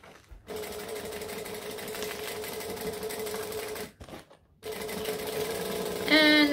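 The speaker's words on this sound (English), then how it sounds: "And then I'm back to the start and I'm going to backstitch." A sewing machine backstitching the seam of a fabric bowler bag runs in a steady close mechanical whir, stops briefly near the end, then resumes at a faster, louder pace.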